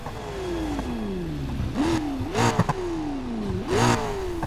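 In Need for Speed Heat, a McLaren P1 GTR engine rises and falls in pitch through repeated gear shifts. Sharp, crackling bursts punctuate the revs, which sound loud and close with no talking.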